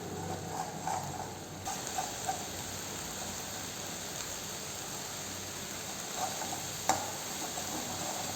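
Egg scrambled with drumstick leaves in a pan for a poriyal gives a continuous soft sizzle, with occasional scrapes and taps of a spatula stirring against the pan.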